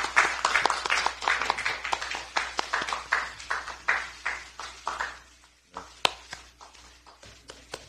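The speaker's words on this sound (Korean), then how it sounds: "박수를 좀 쳐드릴까요?" Steady audience applause at a Democratic Party of Korea recruitment ceremony, dense and continuous at first, then thinning into scattered claps with a single sharp clap near the end.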